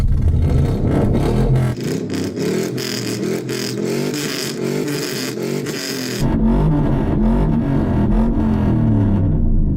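Hennessey Mammoth with a big V8 and tuned exhaust revs loudly close by. Dense, throaty engine roar rises and holds with a brief dip midway, then surges again.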